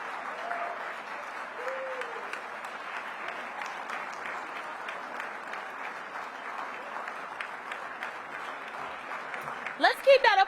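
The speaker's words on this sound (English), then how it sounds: "Let's keep that applause going for Congressman Maxwell Frost." Sustained applause for Congressman Maxwell Frost at a luncheon hosted by the mayor, a steady moderate wash of clapping from the room with a few louder cheers near the end.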